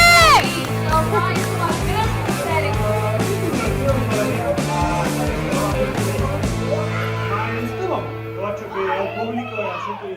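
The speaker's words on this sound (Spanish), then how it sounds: "¿Se escucha cómo le gritan los jugadores?" Esports fans in a large Riot Games stadium in Brazil yelling and whooping at players, a loud roaring crowd with shouts layered over one another, close voices mixed in throughout.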